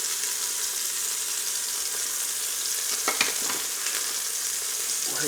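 Cubes of seasoned beef stew meat sear and brown in a hot pan, giving a steady, close sizzle throughout with a few brief clatters from turning the pieces partway through.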